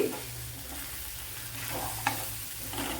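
Cow peas sautéing in a pan give a steady close sizzle with scraping stirs and a brief clink of the spatula near the end, no voices.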